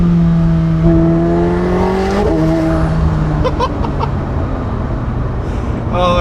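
A McLaren 750S Spider pulls hard in second gear on an Alpine road, its engine note climbing loudly and steadily from inside the car before easing off, with a faint whistling spool and wind noise.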